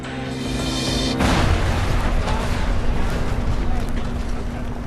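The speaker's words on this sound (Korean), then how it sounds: "구조대원들이 잔해 속에서 수색을 진행하던 그때 여객기 잔해 일부가 폭발합니다" Part of the wreckage of a crashed Korean Air 747 airliner explodes on a hillside near Guam airport during a rescue search, a sudden loud boom followed by a sustained roaring rumble, with a steady hum underneath.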